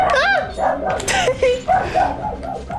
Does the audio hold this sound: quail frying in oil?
no